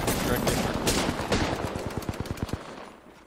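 Gunfire in the video game Apex Legends, a dense burst of rapid automatic shots that settles into a rhythmic string of sharp cracks before fading into quiet.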